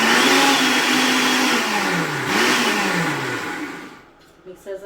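A kitchen food processor grinds chutney for dosa, its motor whirring loudly and steadily, pitch shifting and dropping as the load changes, then winding down to quiet near the end.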